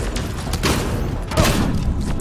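Pistol gunfire in the video game Mass Effect Andromeda, a rapid sustained burst of shots blending into dense, booming rattling with a few heavier thumps, loud and continuous for a couple of seconds.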